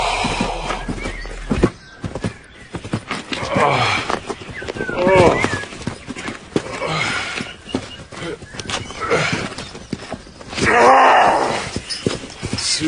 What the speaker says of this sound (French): Saleté de cheval!